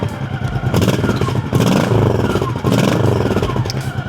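A Honda Shadow 1100 cruiser motorcycle idles loudly through its factory exhaust, a deep, rumbling, uneven low throb, close by, with faint clatter mixed in.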